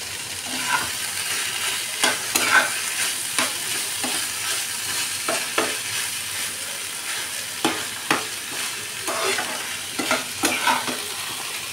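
Tomato sauce fries in a pan for pizza under a continuous soft sizzle, punctuated by repeated scraping strokes and knocks of a spoon stirring it at an uneven rhythm.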